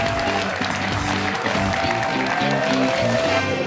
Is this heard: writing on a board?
no